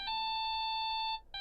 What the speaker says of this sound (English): Can I get that ringtone for my phone? That sounds awesome.